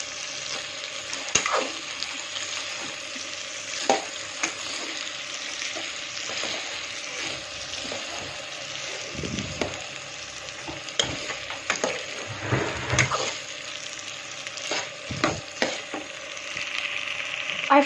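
Prawn curry fries in a pan with a steady, hissing sizzle, broken by irregular scraping stirs and light clinks of a spoon, close and continuous with no talking.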